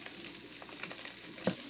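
Food frying in a pan for a feijoada lunch in a rural kitchen, giving a steady, soft sizzle with scattered crackles and pops heard up close, with no voices.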